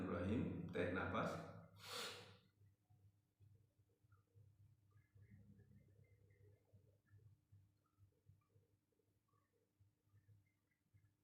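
Deep, audible inhalations at the start of a guided breathing exercise, two or three loud breaths close to the mic, then a quiet room with faint background murmur.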